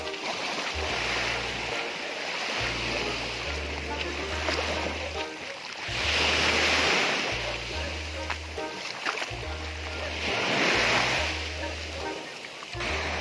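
Sea waves at the shore, a continuous wash of surf swelling twice into louder rushes, heard under background music with a voice faintly present.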